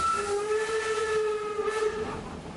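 A train whistle blows one sustained, steady blast with a steamy hiss underneath, loud and unbroken throughout.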